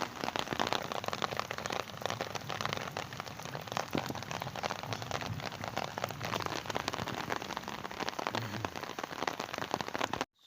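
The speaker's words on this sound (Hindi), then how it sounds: "तेज़ रफ्तार बारिश टेक्सला।" Heavy rain pours down in Taxila in a dense, steady hiss of drops that stays loud and even throughout, with no voices, and stops abruptly at the very end.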